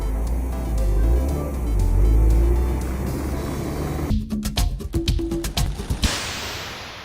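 A car creeping through congested road traffic during real-world emissions testing, heard as a steady low engine rumble that gives way to a burst of sharp knocks and thwacks near the end.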